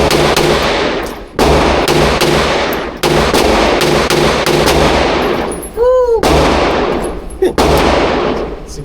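Rapid .22 caliber gunshots at an indoor shooting range in Miami, fired in quick bursts of sharp cracks that fill most of the clip, with a brief pause and a shorter burst near the end.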